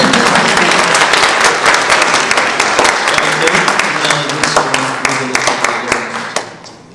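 Clapping from a youth orchestra spring concert audience, a dense steady patter of many hands that thins and fades toward the end, with some voices mixed underneath.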